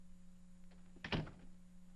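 An office door in a 1949 film noir opens with a single short thunk near the middle, fairly close, over a steady low hum and quiet room tone.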